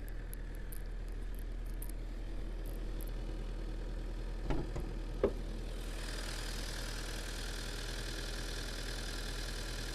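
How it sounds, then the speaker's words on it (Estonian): Lexus engine idling with the hood open, a low, steady hum with a constant deep drone, a couple of brief knocks midway and a faint hiss that thickens toward the end. "vaatame, kuidas selle mikriga on mootori häält kuulda"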